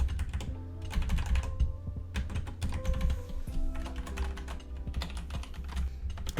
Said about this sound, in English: Let me click down on the key.